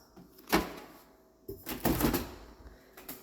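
Top door of a fancy refrigerator swung open, with a couple of close thumps and soft rustling clunks as the door unlatches and moves, no voices.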